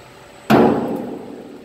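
A single sharp hammer smack drives a metal plug into a drum during hazmat drum overpack training, a loud close impact followed by a short ringing decay.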